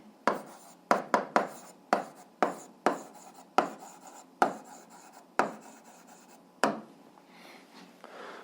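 Pen writing an algebra answer by hand on paper, a series of quick sharp scratchy strokes in uneven bursts, each stroke fading quickly, close and alone without talk.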